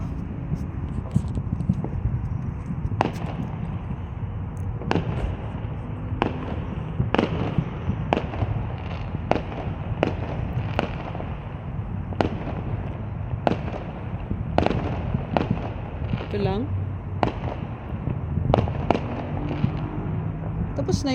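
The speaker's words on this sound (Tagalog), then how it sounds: "Maganda madaming fireworks dyan, ano oh, sa Burj Al Arab." Fireworks burst again and again in an uneven string of sharp bangs and pops, some distant, over a steady murmur of a crowd, near the Burj Al Arab in Dubai.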